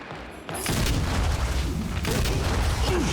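Frag grenade blast in a Gears of War pro league match, a sudden loud boom after a brief quiet start, followed by sustained rumbling and crackling battle noise with no talk.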